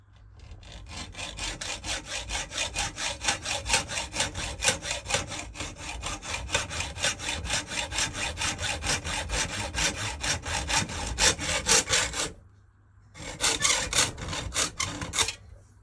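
A hand hacksaw cuts through a piece of a steam locomotive's running board in quick, steady back-and-forth strokes, loud and close, with a brief pause before sawing resumes.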